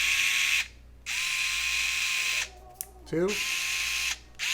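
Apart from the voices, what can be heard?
electric screwdriver torque knob clicking through settings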